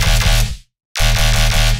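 A heavy Reese bass synth with a downward pluck envelope, thick and loud, hitting with a sharp snap at each attack, cutting off abruptly into a brief silence, then returning just as dense.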